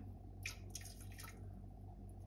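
Kangen hydrogen water is poured into a turmeric and ginger shot in a quiet kitchen: a short burst of faint splashing trickles over about a second, then fades, over a low steady hum.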